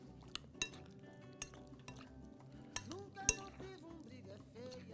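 Utensil clinks against a bowl while chicken skewer ingredients are stirred and mixed, with scattered soft knocks and scrapes over a low kitchen background.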